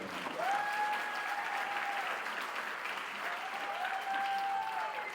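An audience at a community center's founders celebration applauds in a steady, even wash of clapping from a seated crowd, moderately distant, with a couple of sustained whistles or tones rising above it.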